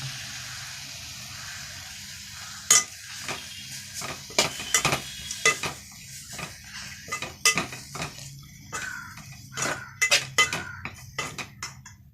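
Ground peanut, dried red chili, rice and garlic paste stirred into drumstick leaves in a metal pan, with repeated sharp scrapes and clinks of the spoon against the pan over a soft sizzle.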